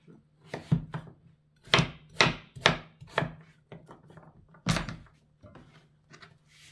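A knife chops through pumpkin on a cutting board for soup, giving irregular dull thuds, some in quick pairs, close and fairly loud with no talking.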